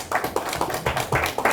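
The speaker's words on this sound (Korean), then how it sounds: "김열수 박사님께 박수를 한번 맞으시죠" A forum audience at a strategic command policy event gives brief applause for a session chair, a short patchy burst of hand claps with low room murmur underneath.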